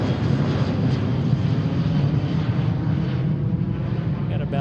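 An American Boeing 727 jet airliner roars steadily on its takeoff roll from runway 34 Right at Seattle-Tacoma airport, a loud, sustained broadband engine rumble with no break across the clip.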